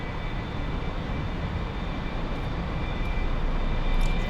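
The jet engine of an A-4E Skyhawk in the DCS World flight simulator roars steadily and broadly, loud and continuous, swelling slightly toward the end with no talk.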